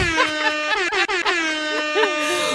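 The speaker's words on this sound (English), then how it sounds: "Marlene just gets an air horn just for being Marlene." A loud, wavering air horn sound effect blares with pitch bends and short breaks, stretching for a couple of seconds, while voices talk around it.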